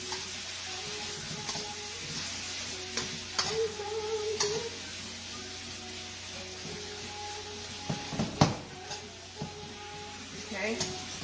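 Thin beef slices for beef and broccoli sizzle in a pan as they are stirred, giving a steady soft frying hiss with occasional scrapes and clicks of the utensil and a quiet background hum.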